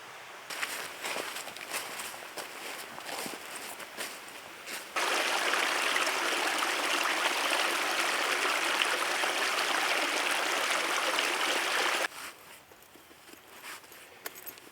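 A spring outflow stream burbles as it meanders through a wooded valley toward Big Sugar Creek, with nearby footsteps and rustling at first, then a loud, steady rush of water before the footsteps return.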